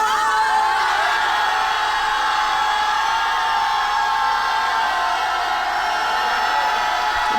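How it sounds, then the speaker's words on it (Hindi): Loud, dense crowd shouting and whooping at a Kerala wedding celebration, a continuous roaring wall of enthusiastic voices with no pauses, close and saturated. "मज़ा आता है वहाँ पे इस तरीके से जोश में चिल्लाने में।"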